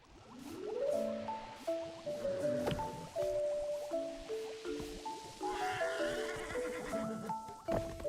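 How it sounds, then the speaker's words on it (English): Several horses neigh and whinny one after another in a video game, the calls clear and fairly close, overlapping in a busy stretch with faint background game sounds. "We got some horses."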